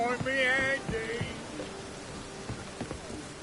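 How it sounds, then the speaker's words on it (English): Rain falling in a PS4 video game, a steady soft hiss with scattered drop patters, joined early by brief musical game tones and faint voices. "Looks like rain."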